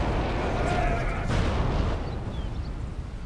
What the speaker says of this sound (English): it's up to the Death Rocket if they want to actually hit the wall or not